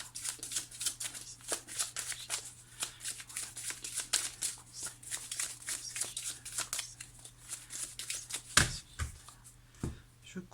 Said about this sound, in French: Je coupe et je prends la carte du dessus.